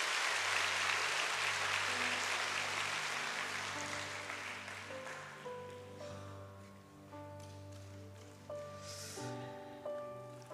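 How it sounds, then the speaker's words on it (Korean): A church congregation at an evangelism retreat applauds, a dense wash of clapping that slowly fades as sustained keyboard music rises and takes over. "큰 박수 부탁드립니다."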